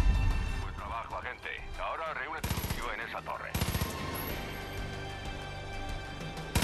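Gunfire in the video game Far Cry 5: bursts of rapid shots crackle in two dense clusters amid a busy mix of music and game effects, with a voice talking over the action.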